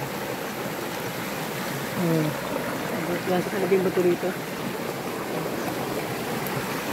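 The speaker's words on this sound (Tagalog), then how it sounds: "Nadaan na naman kami sa ilog" A river flows steadily as a broad wash of water noise throughout, with excited voices talking over it in the middle.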